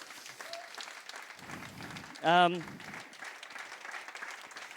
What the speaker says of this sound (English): Let's have a bit of a round of applause for that, I think.